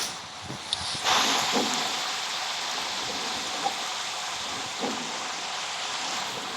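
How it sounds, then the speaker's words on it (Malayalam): Steady rain falls outdoors as a continuous broadband hiss, with a few faint knocks and taps scattered through it. "അപ്പോഴാണ് മഴ തുടങ്ങിയത്"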